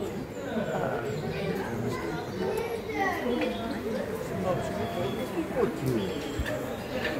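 Birds in the tropical zoo Pantropica in the Netherlands: scattered coos, chirps and chattering calls over a steady murmur of nearby people talking.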